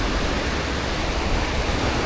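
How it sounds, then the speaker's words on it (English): Steady, dense rushing of sea waves breaking continuously against the shore in Türkiye, with no voices. "hear the sound of the sea lapping against the shore, the waves crashing against each other"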